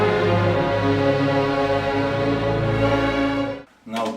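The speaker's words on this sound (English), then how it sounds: "Now there is in the following scene in Tosca a tension theme" Orchestral tension theme from the opera Tosca, a loud sustained passage with dense held harmonies that cuts off near the end before a brief final swell.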